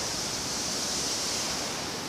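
A waterfall cascades in the ancient forest of Lydford Gorge on the edge of Dartmoor, Devon, a dense, even rushing roar that holds constant and close with no voices.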